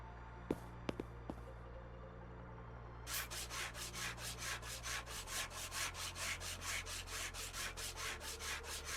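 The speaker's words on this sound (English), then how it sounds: "So we need to start sanding this down" Car bodywork being sanded in the Car Dealer Simulator video game: a steady run of rapid, even back-and-forth rasping strokes, loud and close, after a few sharp clicks and a quiet start, with no talking.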